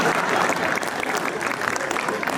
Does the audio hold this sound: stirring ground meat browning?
no